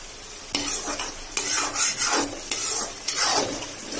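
Masala frying in oil while stirred briskly, giving bursts of loud sizzling and scraping strokes that come in a quick rhythm, close up and without speech.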